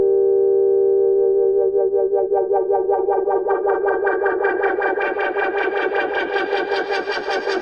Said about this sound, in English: now we're affecting the LFO's modulation of the filter frequency and also the amount of reverb